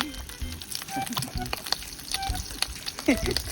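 Smoked tinapa fish fries in oil outdoors, sizzling and spitting in small pops under people talking nearby.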